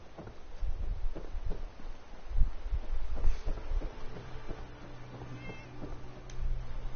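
A cat meows in the game Fallout 4, a few short mewing calls scattered over low rumbling game ambience, moderately close but not loud.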